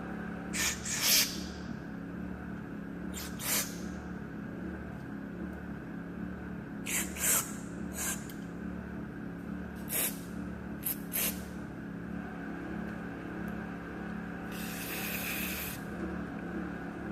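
Short hissing bursts of carburetor cleaner spray into a carburetor's holes, several quick blasts then a longer one, over a steady low mechanical hum.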